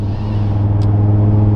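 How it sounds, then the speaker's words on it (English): A loud, steady engine drone from an Audi RS3 five-cylinder, running continuously and close throughout with no clear rev spikes. "Then that V10, well, half a V10 will really, really scream."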